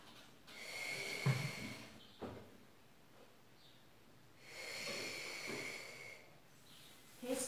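Deep, slow breaths during a gentle pilates class for seniors and beginners at home, two long breathy exhales several seconds apart, soft and close with no talk.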